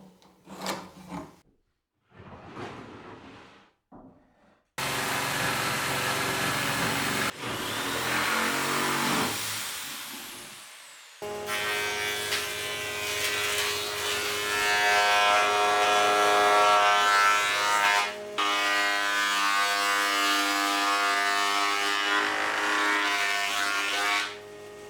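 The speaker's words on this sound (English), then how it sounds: "I've got some rough sawn oak that I'm just going to roughly cut to size using the jigsaw" A jigsaw cuts through rough sawn oak in long, loud, steady buzzing runs that stop and restart several times, with brief handling sounds at the start.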